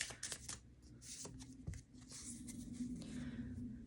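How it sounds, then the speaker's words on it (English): Tarot cards are riffled and shuffled close up in quick papery bursts, soft and steady, with no talking. "Last shuffle for the air signs."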